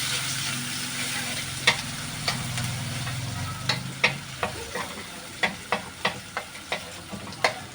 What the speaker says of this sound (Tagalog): Ayan mga paps, mainit na po yung ating mantika. Lagay na po natin yung ating bawang.